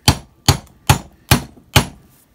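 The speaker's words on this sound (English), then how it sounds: "start tapping it with just like a ball peen hammer or something" A ball peen hammer taps a universal joint cap through cloth on a 1965 Scout 800, five sharp evenly spaced metallic knocks, close and clear with no talk.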